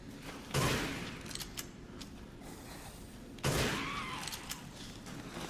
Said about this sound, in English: Alright, pull out the sniper rifle.